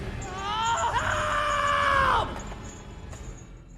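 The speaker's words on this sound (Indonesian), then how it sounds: "sehingga dia pun berteriak untuk meminta pertolongan" A man's drawn-out anguished scream in a film scene, loud and sustained for about two seconds before breaking off, followed by faint background ambience.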